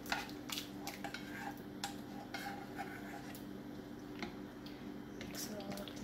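A spoon stirs thick potato soup with mashed potatoes in a slow cooker, scraping and clinking against the pot in irregular light taps and clacks, close but quiet.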